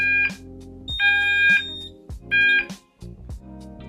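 An Esmi ESCO fire alarm panel in a shed sounds after a smoke detector is triggered with a magnet, giving loud repeating electronic alarm tones in short bursts broken by pauses, with clicks and low thumps between them.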